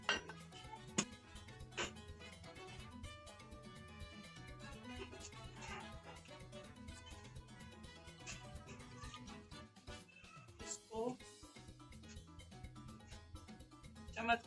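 Spoon stirring dosa batter in a bowl, small clinks and scrapes repeating through the whole stretch over a soft steady background, fairly close and moderate in level.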